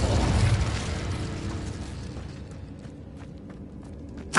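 Fiery spell blasts from Confringo and Incendio in Hogwarts Legacy erupt in a loud rumbling burst that decays over a few seconds, leaving faint crackles and clicks, with another sharp impact at the very end.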